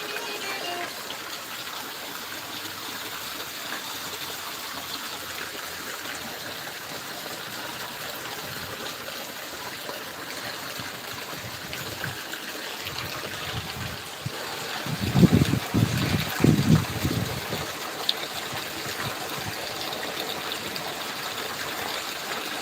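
Rain-fed water gushes and streams along village roads in Barnala district, Punjab, a constant moderate wash with a louder rumbling passage near the middle, probably something passing through the water, and no talk.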